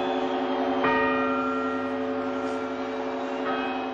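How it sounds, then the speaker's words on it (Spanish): New Year's Eve clock quarter chimes, four double tones before the midnight bells, sound over a steady hum, with a ringing bell stroke near the start and another near the end, each decaying slowly. "Le siguen los cuartos, cuatro sonidos dobles que anteceden a las campanadas."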